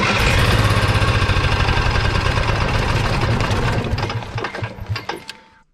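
An Onan 4000 generator engine runs with a loud, rough, pulsing chug, then sputters and winds down to a stop over its last couple of seconds.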